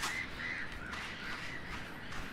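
Crows caw repeatedly in Minute of Islands, harsh calls sounding fairly close, standing alone over a steady windy outdoor ambience.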